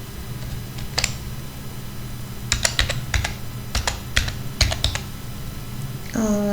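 Code is typed on a computer keyboard in scattered clusters of crisp, close key clicks over a steady low hum.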